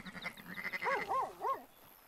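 Merino sheep on a ranch in Red Dead Redemption 2 give a wavering, quavering bleat near the middle, rising and falling a few times, after softer rhythmic bleating noises at the start.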